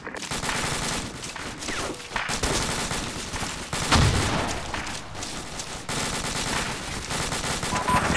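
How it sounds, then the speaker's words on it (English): Sustained automatic gunfire rattles through an Arma 2 battle at a bridge, dense overlapping bursts from several weapons, loud and close, with brief gaps between volleys. "AR, you're firing on friendly street."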